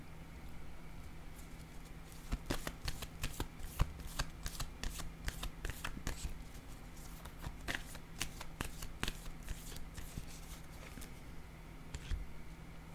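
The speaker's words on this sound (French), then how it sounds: "Je vais déposer une autre carte ici," Tarot cards are shuffled and laid down in a quiet room, giving a series of soft, crisp snaps and slaps in irregular bursts, close and faint, with no talking.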